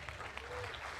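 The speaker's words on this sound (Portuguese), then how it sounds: "Aplauda o Senhor Jesus." A church congregation claps in praise during a service, a short burst of dense, moderately loud applause with a voice speaking over it.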